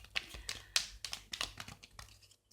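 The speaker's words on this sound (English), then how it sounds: "And now I'm shuffling for the second row." Tarot cards are shuffled by hand in a quiet room, with faint, quick taps and soft riffling clicks in an uneven rhythm.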